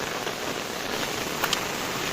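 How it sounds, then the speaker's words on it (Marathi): Heavy monsoon rain on a walk to Mandangad in the Konkan gives a steady, close, broadband hiss with no pauses and a few faint splashes. "आज पाऊस एकदम अफाट आहे"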